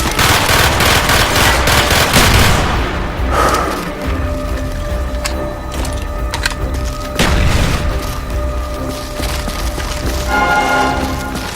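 Heavy gunfire and booming explosions in the Call of Duty: Black Ops Xbox 360 single-player campaign, loud and continuous, with machine-gun bursts and several large blasts throughout.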